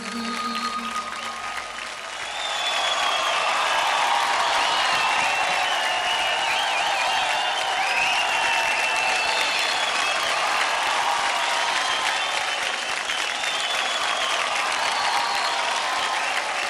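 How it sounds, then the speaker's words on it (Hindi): A studio audience at a Dance India Dance televised dance competition breaks into loud, sustained applause and cheering after a short quieter lead-in, the clapping filling the hall continuously. "जोरदार तालियां हो जाए सुमेध और पॉल के लिए"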